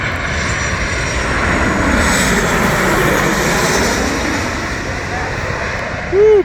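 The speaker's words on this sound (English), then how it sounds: "Yes, American Airlines. Is that the 737?" An American Airlines Boeing 737 at LAX runway 24R, a loud, close roar of jet engines that swells and holds, with people speaking over it and a brief thump near the end.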